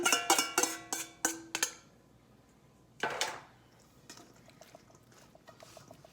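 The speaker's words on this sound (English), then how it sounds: "We're just going to give this a good stir" A spoon stirs a cottage cheese lasagna filling in a large mixing bowl. A quick run of ringing clinks against the bowl is followed by one more scrape and then quiet, wet mixing.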